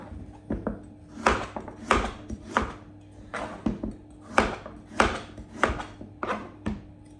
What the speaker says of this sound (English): I'm just gonna cut them in pieces.